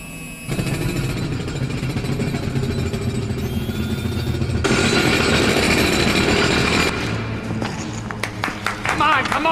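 Sonic hammers and power drivers on a RoboCop film set, a loud, continuous grinding and hammering of heavy power tools, steady throughout with sharper rattling bursts near the end.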